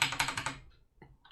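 Several quick keystrokes on a Philips VG8020 computer keyboard, loud and close at first, then a pause and a couple of isolated key presses, with no talking.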